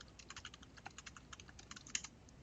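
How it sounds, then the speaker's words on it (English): Steady, rapid typing of an IP address on a computer keyboard, a continuous run of light, close key clicks with one slightly louder keystroke near the end, with no voices. "I type an IP address of"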